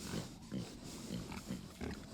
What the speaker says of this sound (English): Guinea hog is some kind of pig.